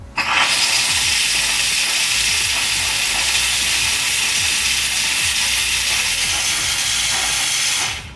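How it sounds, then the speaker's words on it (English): A strong, continuous hiss of steam bursts from a Bissell SteamShot Deluxe steam cleaner up close, starting abruptly and cutting off after about eight seconds. "you can see how much steam is coming out when you guys do use it"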